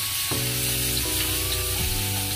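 Garlic sizzles steadily in hot oil in a pan, a constant bright crackle with a few shifts in tone, heard alone and close.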